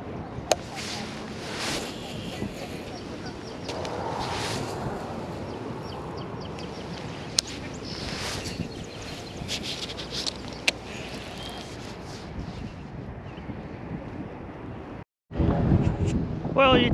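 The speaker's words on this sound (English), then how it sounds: "it's really windy now" Steady roar of strong wind buffeting the microphone while fishing, with gusts swelling and fading, a brief dropout near the end, then loud rumbling wind again.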